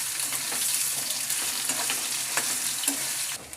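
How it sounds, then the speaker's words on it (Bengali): Small diced potatoes sizzling in hot oil, a dense steady crackle close up with light scrapes and taps of a spatula as they are stirred. "আলুটাকে যখন একটু নেড়ে চেড়ে ভেজে নেব"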